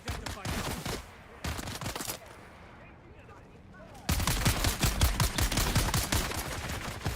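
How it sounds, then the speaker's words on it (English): Rapid bursts of gunfire crackle in Dune: Awakening, with dense shots in short volleys, a brief lull, then heavier sustained firing close and loud. "What's the deal with them shooting each other?"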